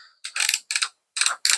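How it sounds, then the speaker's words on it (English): An Einhell collated screw gun attachment takes a strip of screws being fed in, giving four short bursts of bright mechanical clicking and ratcheting, close and fairly loud, separated by brief pauses. "And then you feed your screws into the gun like so."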